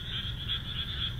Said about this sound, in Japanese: そしてその近くの民家のお庭からも大音量のカエルの声が。